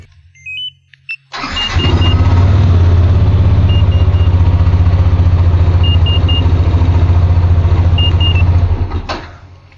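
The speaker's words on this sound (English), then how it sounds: "the bike starts normally. This is the starter button" A Yamaha Nmax scooter fitted with an aftermarket alarm and immobilizer starts at the press of its starter button: a brief click and whir, then the small engine catches and idles steadily and loudly, with occasional short beeps, before cutting off.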